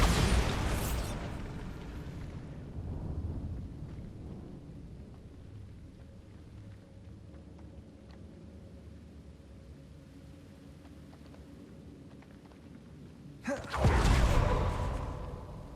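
A Bombarda blasting spell goes off in Hogwarts Legacy: a loud booming burst up front, a rumbling decay, a quieter stretch, then another sharp explosion near the end.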